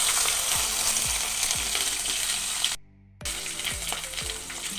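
Onions frying in oil with curry leaves for a little millet upma give a loud, continuous crackling sizzle with a brief cutout and faint regular ticking underneath.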